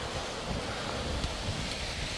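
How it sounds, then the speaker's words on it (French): Wind gusting outdoors on a cold, rainy mountain trail along the GR70 Stevenson route in the Cévennes, a steady broadband roar of wind and rain noise buffeting the microphone throughout, close and constant with no talk. "il pleut tout le temps, du vent, il pleut, il fait froid aussi"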